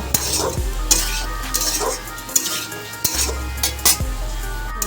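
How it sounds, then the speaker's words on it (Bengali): Cumin and coriander spice paste is sautéed in a pan with a soft sizzle, and a metal spoon stirs and knocks against the pan in repeated sharp clinks, close up, with no talking. "এবার আমি জিরে ধনেটাকে ভালো করে এবার কষিয়ে নেব"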